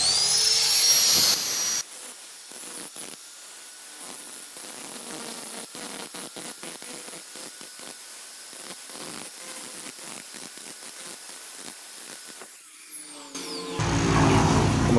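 A power tool grinds down a weld seam on a front shock absorber tube, a steady loud whirring hiss running throughout with short louder bursts at start and finish.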